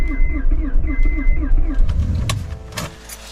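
An old car's engine cranking in winter cold in Edmonton, Alberta, a rhythmic starter whir repeating several times without catching, then a couple of sharp clunks as it stops.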